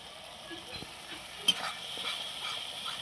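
Masala for katla fish curry sizzles and is stirred in a pan, a soft steady fry with faint scraping and one brief louder clink midway, no voices.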